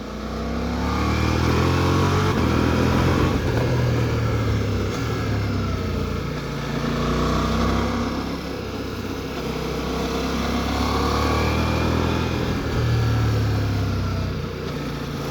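A Ducati Multistrada V4S engine, held near 3000 rpm while riding, revs up and swells in loudness, its rough, continuous drone rising and falling over about fifteen seconds amid wind noise, with no talk.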